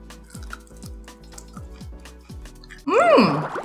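Someone crunching a homemade baked carrot chip made as a bacon substitute, a series of sharp regular bites close up, followed by a loud exclamation.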